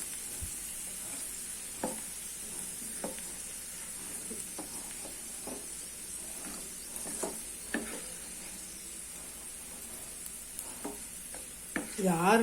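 Garlic frying in oil in a vadai pan for spicy red chilli garlic chutney, a soft continuous sizzle broken by scattered spatula stirs and clinks, growing louder at the very end.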